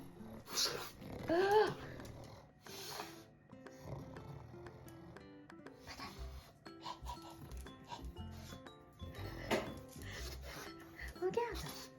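Dog snorting, sniffing and making small grumbling noises in a kitchen while pizza is made, in scattered bursts mixed with soft handling sounds and people talking.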